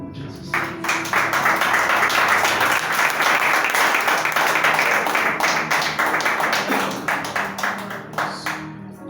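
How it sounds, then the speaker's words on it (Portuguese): A church congregation applauds loudly and steadily, the dense clapping of many hands filling the room without a break and fading slightly toward the end. "Se é para Jesus, pode aplaudir mais forte, igreja."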